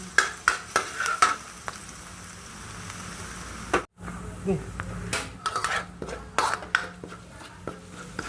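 Garlic fried in hot oil in a hot pan for chopsuey gives a steady sizzle. Frequent metal spatula clinks and scrapes against the pan come close and distinct, with a brief pause midway.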